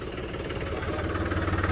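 A tractor engine runs steadily, a close, rough mid-to-low rumble with a faint knocking pulse throughout, and no speech.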